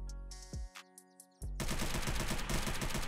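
Gunfire in the survival game Unturned starts with a few separate sharp shots over a tonal hum, then turns into a fast, continuous automatic burst that runs loud to the end.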